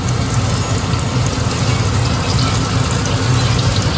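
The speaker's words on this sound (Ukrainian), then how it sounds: "Беру вершки ось і заливаю." Cream poured into a pan of freshly fried shrimp, giving a steady, loud sizzling hiss with a low rumbling bubble underneath that holds evenly throughout without pause.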